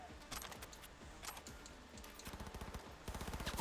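Gunfire in Cyberpunk 2077: scattered shots and clinks early on, then repeated rapid automatic bursts, sharp and close, growing denser toward the end.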